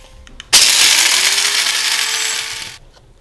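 Coffee grinder set to its finest grind, a sudden loud, harsh whir that runs for about two seconds before cutting off, with quiet room sound on either side.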